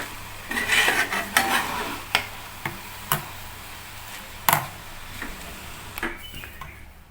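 Cooked rice being mixed for coriander rice, with a spoon scraping and clinking against the vessel in uneven, close taps and strokes over soft background rustle. No voices.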